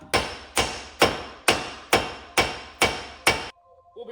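Eight sharp, evenly spaced hammer strikes ring out on a metal suspension part of a Toyota MR2, close and loud, about two per second, then a brief faint clatter after the last blow.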